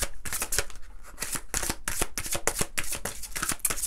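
A deck of oracle cards is shuffled continuously, giving rapid, crisp riffling and slapping bursts that repeat steadily and sound close and fairly loud, with no voice over them.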